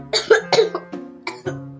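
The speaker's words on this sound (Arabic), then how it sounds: "وكمان بكح" A sick girl with a cold and fever coughs several times in quick succession, close and fairly loud, with harsh rasping bursts and no talking.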